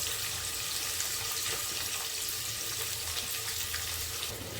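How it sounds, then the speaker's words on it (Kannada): Chopped onions dropped into hot oil with clove and bay leaf for a jackfruit biriyani, giving a steady, dense sizzle that holds evenly throughout, fairly close and with no talking. "ಈಗ ನಾವು ಕಟ್ ಮಾಡಿ ಇಟ್ಕೊಂಡಿರೋಂಥ ಈರುಳ್ಳಿನ ಹಾಕ್ಕೊಳ್ಳೋಣ."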